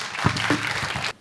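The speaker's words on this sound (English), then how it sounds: "please give him a warm applause" Audience applause at the close of a lecture and conversation event, a short, even burst of clapping from a seated crowd that stops abruptly.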